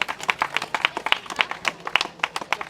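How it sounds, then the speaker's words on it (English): Crowd applause at a British karting championship podium ceremony for the overall winner of a Bambino final, steady clapping from many hands with sharp rhythmic peaks, fairly close. "Big round of applause for your overall winner"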